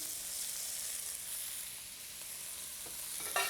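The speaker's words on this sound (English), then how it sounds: "Stir fry this." Bamboo shoots and green onion stir-fried in a hot wok give a steady bright sizzle, with a faint scrape of the spatula near the end and no talking.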